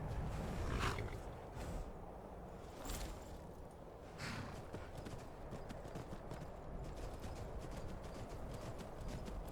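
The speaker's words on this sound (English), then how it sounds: "I'm going to bring the horse a little bit closer." Hooves of a horse in the video game Skyrim clip-clop steadily on the ground, with a few louder snorting breaths early on, close and moderately loud.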